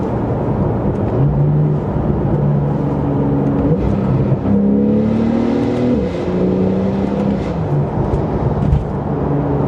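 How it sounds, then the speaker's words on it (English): A 2018 Porsche 911 Carrera S, 991.2 generation, with its exhaust note rising and falling through several revving pulls, a continuous loud engine drone heard from nearby without talking. "listen to that exhaust"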